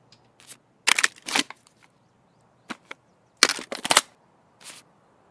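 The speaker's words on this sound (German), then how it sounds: "Schon wieder ein Sniper irgendwo." Sniper rifle shots in the video game Escape From Tarkov, a scattering of sharp cracks in two clusters with short gaps between, fairly distant and alone without talk.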